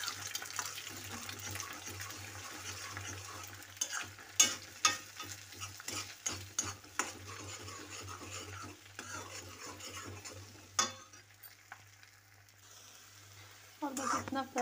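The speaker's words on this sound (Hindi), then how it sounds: "अब सिर्फ इन अंडों को मैं इसमें फ्राई कर लूँगी, खाली फ्राई करना है मुझे इसको।" Eggs fry in hot oil in a kadai while a spoon stirs them: a soft, continuous sizzle with scraping and clinks of the spoon, fairly quiet and close.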